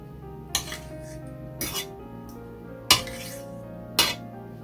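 Lid set on a pot of cornmeal (turn/tun polenta) being cooked on a stove, four sharp metallic clanks spaced about a second apart over a low steady hum, close and fairly loud.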